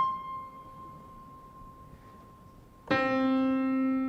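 A high plucked tone from a quarter-length monochord string rings and fades softly, then a second, lower string is plucked sharply and rings loudly with bright overtones.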